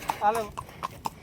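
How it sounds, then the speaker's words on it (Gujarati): A horse carrying a rider at Mount Abu clip-clops with a few sharp, close hoof strikes in an uneven rhythm, while a voice speaks briefly over them. "મુકેશ બેઠા છે મારા ઘોડી ઉપર."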